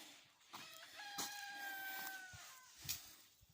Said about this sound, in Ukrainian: Виспівують півники, мабуть, на дощ.